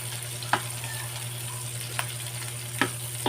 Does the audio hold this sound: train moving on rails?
no